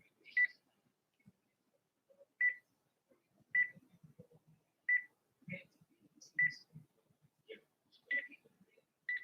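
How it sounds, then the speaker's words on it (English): Electronic telephone tones while a phone call is placed, short beeps repeating about every second and a half, with faint low clicks and handling noise between them. "let me make a phone call"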